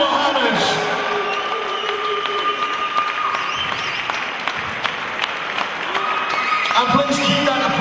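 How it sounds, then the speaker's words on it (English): Arena crowd applauding and cheering after a unanimous decision in an MMA title fight, a loud, continuous wash of clapping with crowd noise and an announcer's voice over it. "please keep that applause going for our runner-up from Denmark, Rasmus Bendtsen"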